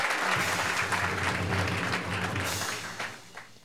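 Studio audience applause for a stage performer on a Taiwanese singing contest show, a full burst of clapping that swells and then tapers off toward the end, with faint background music underneath.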